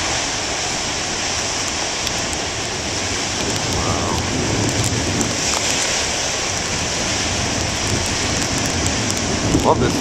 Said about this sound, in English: Love this lightning storm.